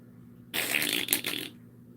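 A 31-year-old African grey parrot imitates a fart noise, one buzzy, sputtering, close and fairly loud blurt lasting about a second against a quiet background.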